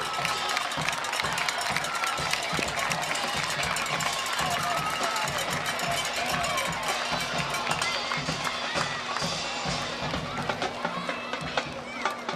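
Crowd at a high school football game cheering and clapping for the junior players and coaches, a dense continuous roar of applause and shouts with a voice over the noise.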